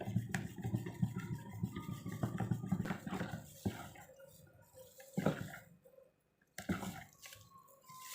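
A liquid soap mixture of sulfonic acid and Texapon is stirred in a container, giving wet sloshing and swirling sounds that come and go in irregular bursts, with short pauses and faint clinks between them.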